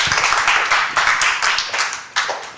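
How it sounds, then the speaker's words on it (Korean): Seminar audience clapping in bursts, a roomful of hands applauding for a couple of seconds with uneven pulses and a fresh surge near the end, no talking over it. "박수 주세요."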